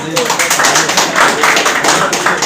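An audience at a gathering of Nepali and Indian journalists breaks into loud, sustained applause, dense overlapping claps with a steady pulsing texture, close and continuous throughout.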